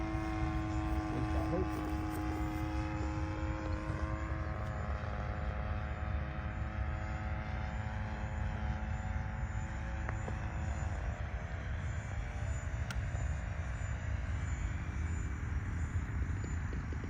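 A Balsa USA Stingray RC plane with a DLE-20 gas engine comes in to land, its propeller drone steady and fairly close with shifting engine tones across the whole stretch, with no talk.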